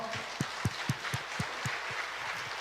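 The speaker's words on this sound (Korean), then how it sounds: "우리 하나님께 영광의 박수 올려드립니다" A church congregation applauds during a sermon, a fairly faint spread of clapping with a few distinct louder claps standing out early, then thinning toward the end.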